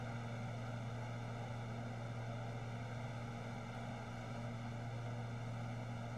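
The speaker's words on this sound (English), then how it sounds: "I heard a rev up" A simulated C90 King Air turboprop drones steadily from its propellers and engines in X-Plane 11, an even sustained hum heard alone.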